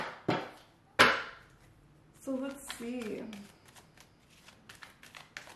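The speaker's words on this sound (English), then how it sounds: "So let's just get a few shuffles here." Oracle cards are shuffled by hand, with a few sharp slaps and riffling, rustling passes close up, while someone speaks briefly.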